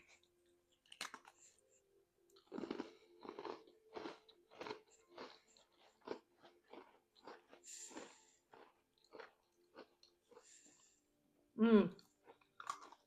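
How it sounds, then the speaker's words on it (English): Crunchy nut-butter-filled snack with peanut or cashew being bitten and chewed, a run of close, sharp crunching bursts spread across the clip, ending in a brief louder vocal sound. "You got to get to chewing, and then you taste the peanut or the cashew"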